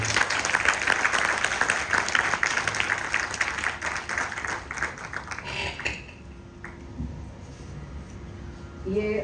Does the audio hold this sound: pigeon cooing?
no